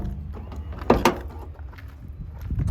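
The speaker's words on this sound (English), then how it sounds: "Soft closed side door. You can hear that click after I shut it to pull it the rest of the way shut." A soft-close power side door on a 1996 Toyota Granvia shuts with a firm thud and a quick mechanical click, close up, followed by faint motor and rustling noise.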